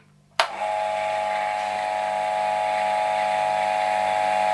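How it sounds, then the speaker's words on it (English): After a sharp click of the switch, the electric motor of a restored Burgess Powerline BBS-20 Mark II bandsaw starts up and settles into a steady, even whine and hum, running alone close by. "the motor does sound better now since I cleaned all the sawdust out of it"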